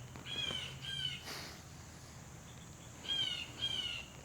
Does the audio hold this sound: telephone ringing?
no